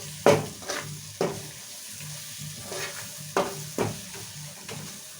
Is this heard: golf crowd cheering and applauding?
no